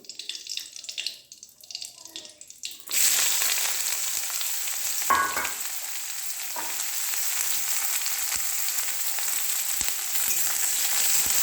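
Sliced onions hit hot oil in a wok already holding bay leaves, and after a quiet start a loud, dense sizzle erupts and holds steady to the end, with a few faint clinks.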